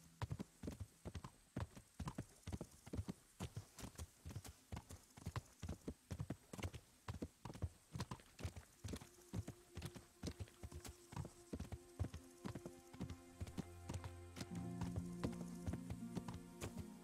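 Horse hooves clip-clop in the medieval role-playing game Kingdom Come: Deliverance, a steady, evenly paced trot of crisp hoof strikes heard alone throughout, with a low rumble of ambient sound rising near the end.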